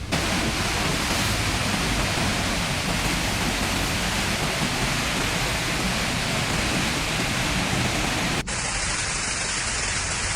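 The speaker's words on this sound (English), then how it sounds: "The dams releasing water on schedule." Loud, steady roar of water rushing from a dam release, broad and continuous like a torrent pouring through a spillway, with a brief shift near the end.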